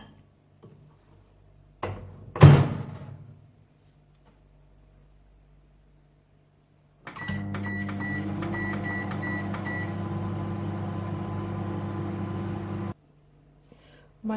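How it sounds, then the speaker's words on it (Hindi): A microwave oven heats a chocolate mug cake: a door thud and clunk come first, then after a pause the oven hums steadily for about six seconds before stopping. "इसको रखेंगे माइक्रोवेव में"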